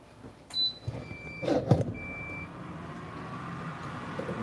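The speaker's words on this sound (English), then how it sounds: "When there's a minute left, it beeps, just to warn you." A waffle maker timer gives a few short, thin electronic beeps at moderate volume, separated by pauses, over a steady background hum and some faint clatter.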